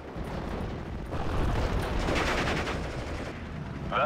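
An aircraft strafes infantry in the WWII strategy game Steel Division: Normandy 44, a continuous roar of rattling gunfire and rumbling impacts that swells in the middle and holds steady, loud and without speech.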